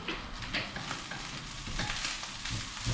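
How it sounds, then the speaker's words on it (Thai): Rice being stir-fried in a pan, a steady close sizzle with scraping stirs and soft clatters running throughout, no voices. "แม่ก็ผัดข้าวให้ลูกอยู่"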